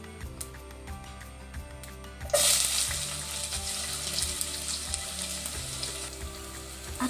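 Onions drop into hot oil with mustard seeds, erupting into a loud, bright sizzle that rises suddenly, then settles into a steady close crackle with faint tapping before it.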